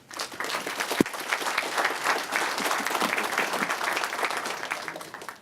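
Audience applause breaking out after a panel discussion at a data conference, a dense steady clapping from a room of people with one sharp louder clap near the start, sustained throughout and fading slightly at the end.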